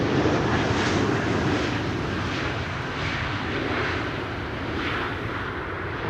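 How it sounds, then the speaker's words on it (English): Emirates Airbus A380 airliner landing at Amsterdam Schiphol, a steady, loud broadband engine roar that holds evenly throughout with no voices. "Emirates A380, penultimate airplane of the day."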